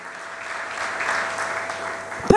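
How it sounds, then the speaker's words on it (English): A crowd applauds at a 2020 school graduation ceremony, moderate and steady clapping that swells slightly midway, ending with a brief sharp louder sound. "Let's give him a round of applause for all his commitment to this school."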